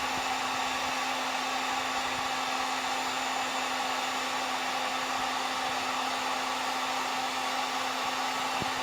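Hot air blower heating a circuit board to melt solder and salvage parts, a steady, even rushing hiss with a constant hum, running close and alone for the whole stretch.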